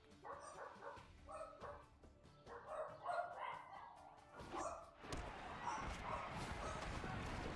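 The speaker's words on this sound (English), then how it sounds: "sorry about the random doggos, they like the bark." Several dogs barking in short repeated bursts, loud and close, with some yips and whimpers, over faint background noise; a louder wash of sound takes over toward the end.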